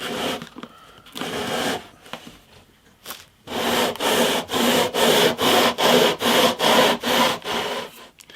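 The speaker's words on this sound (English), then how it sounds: "just about every fret now has been touched by this sandpaper" Sandpaper on a leveling block rubbing across the frets of a 50-year-old acoustic guitar with a bowed neck, giving scattered strokes at first and then about ten steady, loud, rhythmic back-and-forth rasps, close and with no talk.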